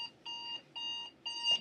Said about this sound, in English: Apparently, I have an alarm going off.